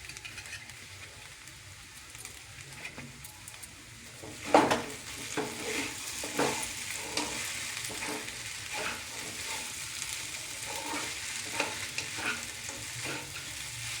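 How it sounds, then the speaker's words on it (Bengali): Sabu pulao with lemon juice and coriander is stir-fried in a pot, giving a steady soft sizzle under intermittent spoon scrapes and clinks, close and fairly quiet, with no talking. "ভালো করে সবগুলো একসাথে একটুখানি ভেজে নেব।"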